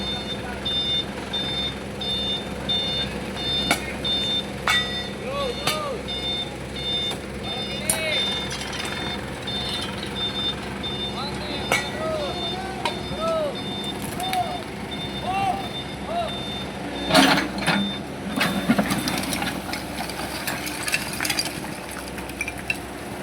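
A dump truck arrives at a canal normalisation worksite, its reversing alarm beeping in an even repeating pattern under engine rumble, mechanical clinks and nearby people talking.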